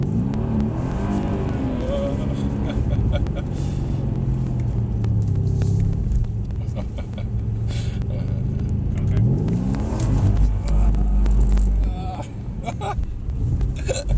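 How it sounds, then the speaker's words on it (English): Mercedes-AMG C63S on a race track at Mercedes-Benz World, its engine droning steadily with throttle blips and revving, while people talk over it throughout. "You can hear the throttles going."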